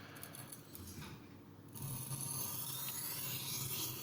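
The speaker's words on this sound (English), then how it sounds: "I'm starting with distressing the edge, just dragging across the coarser stone in the progression." The edge of an old carbon steel kitchen knife is dragged across a coarse sharpening stone, making a faint gritty rasp in short strokes that turns into a steadier scraping in the second half, close by in a quiet room.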